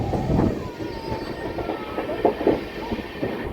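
The 22618 Intercity Superfast Express train rolls steadily along the rails as it takes a curve between Bengaluru and Tirupati, with a continuous rumble, rhythmic wheel clatter and faint squeal, heard from aboard.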